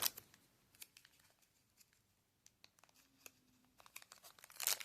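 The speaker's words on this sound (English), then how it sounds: "Little plastic baggie." A small plastic baggie crinkles and rustles in short, quiet bursts while it is handled up close, with a louder flurry of crinkling at the end.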